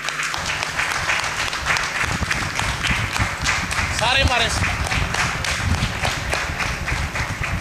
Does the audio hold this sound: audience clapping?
yes